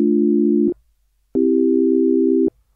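A Dexed DX-7 emulation software synthesizer holds stacked notes as sustained electronic tones. A chord rings for under a second, stops, then a second chord holds for about a second. Both end abruptly.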